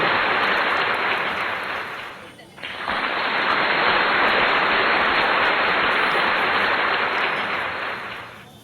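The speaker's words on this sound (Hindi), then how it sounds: "जोरदार तालियां बजा के" A crowd claps hard and continuously at an Independence Day celebration in Khirki Extension, Malviya Nagar, Delhi. The dense, rain-like roar dips briefly after about two seconds, then returns at full strength until it fades at the end.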